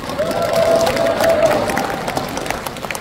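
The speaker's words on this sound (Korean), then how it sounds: "큰 박수 다시 한번 부탁드립니다" A crowd applauds and cheers at a political campaign speech event for a presidential primary, the clapping steady, loud and sustained throughout.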